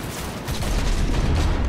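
Rapid gunfire in the video game Cyberpunk 2077 during a car chase, a dense, continuous rattle of shots and low rumble with no clear gaps, loud and close throughout.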